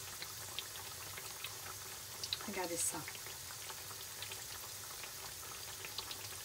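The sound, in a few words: apple beignets frying in oil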